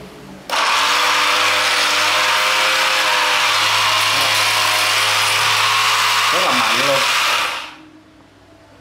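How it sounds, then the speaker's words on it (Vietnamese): An electric 220V 135W vibrating sander switches on with an abrupt start and buzzes loudly and steadily for about seven seconds before winding down, with a brief voice over the motor near the end. "Máy nó rung rất là mạnh,"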